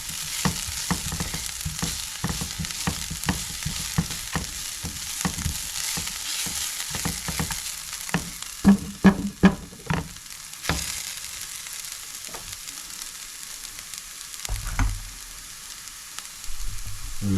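Vegetables for salmon cakes fry in a pan with a continuous crackling sizzle, punctuated by a run of sharp scraping and stirring knocks in the middle, close and fairly loud.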